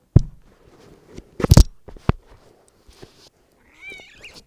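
A pet cat meows in short bursts at close range, with some crunching and biting sounds mixed in while someone handles it indoors.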